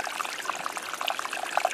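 A small creek trickles and splashes over big flat rocks in the Caribou gold country of British Columbia, a steady close bubbling flow with light gurgles and no voices.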